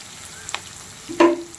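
Ridge gourd pieces fry quietly in a pan, with a light stir near the middle and a brief clink and scrape near the end.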